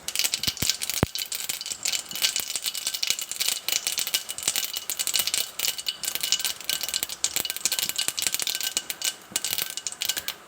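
Mustard, fenugreek and cumin seeds splutter in hot oil in a kadai for South Indian brinjal gothsu, a dense, continuous, close crackle of rapid pops and sizzling rattles.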